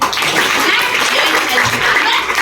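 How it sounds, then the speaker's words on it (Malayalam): An audience applauding at a Mi Lifestyle Global Marketing talk, a loud, dense wash of clapping hands that holds steady throughout without a break. "ഒന്ന് കൈയടിച്ച്."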